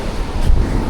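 Strong ocean waves near beach accommodation, a loud, continuous roar of surf with heavy low rumble and wind buffeting the microphone, no voices.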